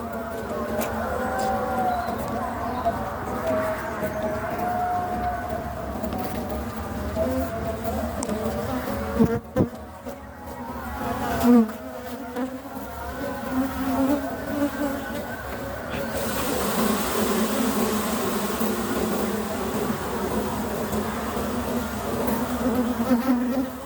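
A dense, continuous buzz of many bees at an open hive fills the air close by, droning steadily with shifting pitch and no voices.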